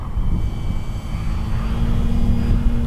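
An FMS Pitts 1400mm RC aerobatic plane cruises overhead after rain, its electric motor giving a steady, loud drone with a constant tonal whine throughout.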